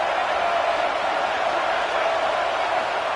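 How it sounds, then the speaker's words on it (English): A stadium crowd in a college football video game, Arizona State against Georgia, roars steadily on third down, a dense, unbroken wash of distant voices holding at a constant level throughout. "3rd down and the crowd really getting into it."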